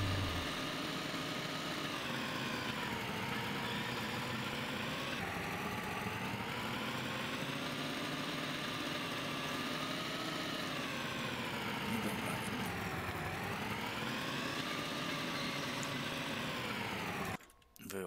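Scooter engine idling steadily in a video game set near a roller coaster, a continuous buzzing drone that holds for about seventeen seconds before cutting off abruptly at the end.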